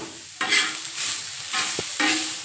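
Coconut and tomato roasting in a pan for a capsicum curry, with repeated stirring scrapes and a soft sizzle in short bursts, close and moderately loud, no talking.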